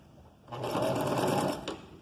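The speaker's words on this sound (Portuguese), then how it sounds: "vamos para a máquina agora na reta, para passar uma costura aqui nessa pontinha do elástico" Close and loud, a sewing machine runs a straight stitch along the end of an elastic in a single fast burst of rapid even needle clatter lasting about a second, then stops abruptly.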